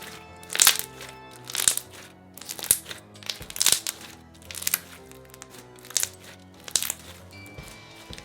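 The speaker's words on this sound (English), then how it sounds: "So this slime is super crunchy, it's great for bubble pops" Crunchy slime packed with foam beads is squished by hand in about seven bursts of dense crackling and popping, each loud and close, separated by short quieter pauses.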